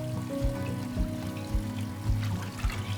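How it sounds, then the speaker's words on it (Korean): Salted young radish (yeolmu) being gently rinsed and shaken in water, with close splashing and trickling and a few soft sloshing pulses, no talk. "이제 절인 열무를 물에다 씻을 거예요"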